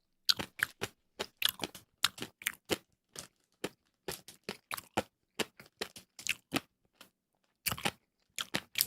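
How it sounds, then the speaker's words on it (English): Crunchy pickled radish is chewed up close, giving sharp irregular crunches in quick clusters with short pauses, loud against a silent background. "Has a nice crunch to it too."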